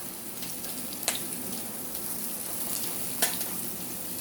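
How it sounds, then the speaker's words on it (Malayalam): Eggplant slices sizzle steadily in a hot frying pan, a close, even crackle of oil with two sharp clinks of a utensil against the pan, and no voices. "എൻ്റെ വഴുതനങ്ങ ഞാനിതിവിടെ പൊരിച്ചുകൊണ്ടിരിക്കണം"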